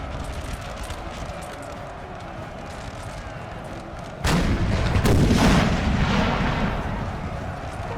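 Artillery thunders in a Napoleonic Total War battle in Italy: a steady low battle rumble gives way to a sudden heavy boom and a loud rolling roar that slowly fades, with no speech.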